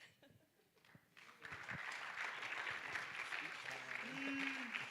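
Audience applause at a Suburban Christian School high school play, quiet at first and then swelling after about a second into sustained, steady clapping from a full room.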